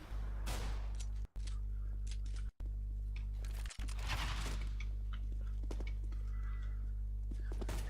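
Gunfire in the CS:GO video game: several sharp, loud shots and short bursts spread across the stretch, over a steady low hum, with no speech.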